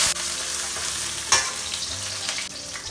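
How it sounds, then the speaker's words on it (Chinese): Ginger slices, scallions, star anise, cinnamon and bay leaves stir-fry in a little oil over low heat, giving a steady soft sizzle with scraping stirs, close and without talk. "锅里留底油，先下入姜片、小葱，爆香以后下入八角、桂皮、香叶，小火把这个料头的香味给它炒出来。"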